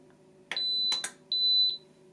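A Crock-Pot Express multi-cooker with the lid locked and the valve sealed gives three clear electronic beeps as start is pressed on the rice setting: two short tones, then a longer one, close and fairly loud over a faint steady hum.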